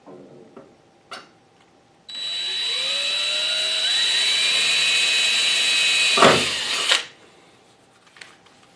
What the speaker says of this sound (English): take a drill and just drill into that center, just so I have a starting point for that hole